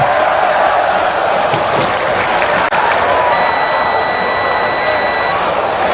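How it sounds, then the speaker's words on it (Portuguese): Fortaleza supporters cheer and chant in a stadium during a match against LDU, a dense, steady roar of crowd noise with a high electronic tone entering partway through. "Sobe som da torcida do Leão"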